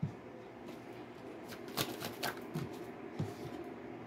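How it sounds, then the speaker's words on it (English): A deck of tarot cards being shuffled, quiet riffling with several crisp snaps and flicks of the cards at close range and no talking. "We're going to do a shuffle."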